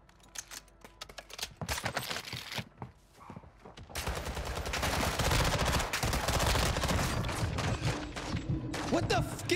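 Dense gunfire in the online shooter Warzone, with rapid crackling bursts and automatic fire that grow louder and nearly continuous after a sparser opening, joined at times by muffled voices.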